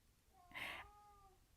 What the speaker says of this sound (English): there's the kitty in the background wanting to participate